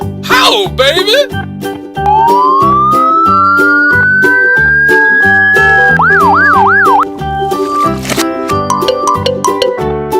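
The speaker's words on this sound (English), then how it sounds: "Police car." Toy police car playing an electronic siren, a rising wail followed by warbling up-and-down tones over a jingly, bouncy toy melody, loud and close, with a voice speaking at the start.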